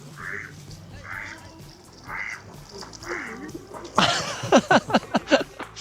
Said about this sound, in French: Oh, le canard.